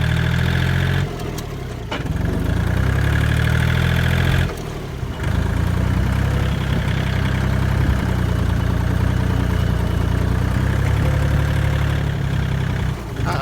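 A tractor engine chugs loudly and steadily, idling and pulling away in first gear with a brief dip in sound near the start, running alone throughout.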